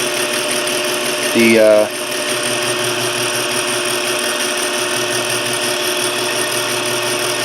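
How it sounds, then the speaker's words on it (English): A South Bend toolpost grinder runs with its pulley turning, giving a steady, even mechanical hum with a faint whine throughout, while a voice briefly speaks near the start. "the pulley's running nice"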